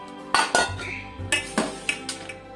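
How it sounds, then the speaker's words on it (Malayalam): Washed breadfruit pieces drop into a pressure cooker, giving several separate clattering knocks and clinks against the metal pot at close range, with no voices. "അതിനെ നന്നായി കഴുകി അത് നമുക്ക് കുക്കറിലേക്ക് ഇട്ട് കൊടുക്കാം."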